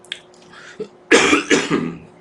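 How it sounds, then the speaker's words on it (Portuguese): A couple of small throat sounds followed by two or three harsh, close coughs in quick succession. "Tá foda a tosse aqui"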